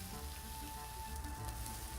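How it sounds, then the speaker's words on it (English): Food fries in a pan with a steady close sizzle and crackle throughout, a constant hiss with small pops over a low background hum. "You hear that sizzle?"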